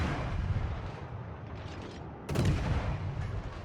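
Naval gunfire striking a ship in the World of Warships video game, a Hindenburg cruiser landing a hit: dense booming rumble of artillery with a louder burst of impacts partway through, no talking.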